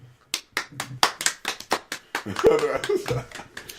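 A round of applause: a string of sharp hand claps, starting sparse and building into a denser, louder burst near the end, close to the microphone.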